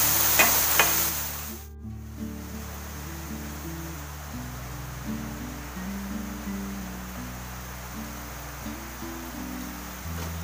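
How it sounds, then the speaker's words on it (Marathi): Shredded cabbage paratha filling stir-fried on high flame, a steady hiss with a few sharp clatters at the start, then a long even sizzle. "आता गॅस फास्ट केला आणि चांगलं असं मिक्स करून घेते"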